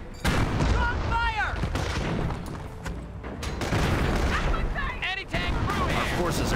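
Rapid gunfire and heavy artillery booms from the Company of Heroes World War II strategy game, loud and continuous with whizzing shell whistles, battle chaos layered under game voice callouts.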